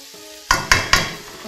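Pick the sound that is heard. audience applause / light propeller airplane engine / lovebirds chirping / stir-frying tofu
stir-frying tofu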